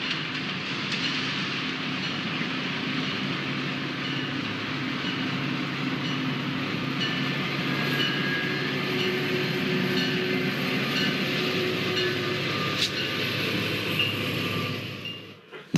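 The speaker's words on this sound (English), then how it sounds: "trains on the Milwaukee District and Union Pacific West lines cross each other at this busy junction" Metra commuter trains roll through a busy railroad junction where the Milwaukee District and Union Pacific West lines cross. A continuous loud rumble of wheels and cars holds steady, with clickety-clack and faint squeals, and fades only at the end.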